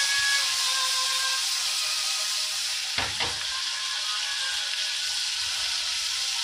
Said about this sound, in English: But today we're using asparagus to deglaze the pan.